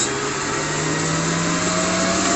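An electric mixer beats apple and spice cake batter with a loud, steady motor whine. The whirring is constant and close for the whole stretch, with no talking over it.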